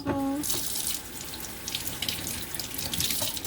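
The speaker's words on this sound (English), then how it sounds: "rinse my hands off" Water running from a kitchen tap while hands are rinsed, a continuous close splashing hiss that starts after a short electronic beep and keeps going to the end.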